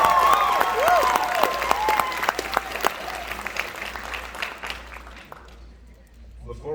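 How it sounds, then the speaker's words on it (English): Applause fills a high school graduation ceremony, a crowd clapping loudly with some sharp individual claps and scattered cheers and voices, fading toward the end. "So let's give a round of applause."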